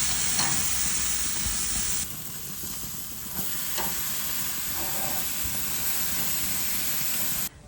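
Steaks fry in a pan with a loud, steady sizzle and hiss, close up throughout, with a few brief scrapes or shifts in the spatter and no talking.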